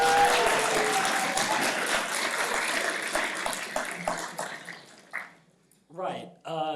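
An audience at a fireside chat at the AdventureX 2025 event claps steadily for several seconds, the applause thinning out and fading to near silence before a voice starts speaking.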